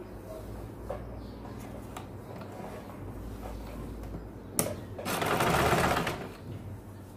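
A sewing machine stitches a blouse, running in a short burst of rapid mechanical whirring after quiet fabric handling and a light click.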